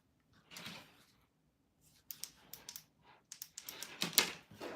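A computer keyboard is shoved aside on a cluttered office desk. It gives faint, scattered plastic clacks and knocks in quick irregular bursts, close by in a quiet room.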